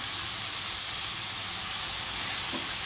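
Vegetables for Maggi noodles sizzling and frying in a pan while being stirred, a steady hiss with soft scraping, close and continuous with no speech.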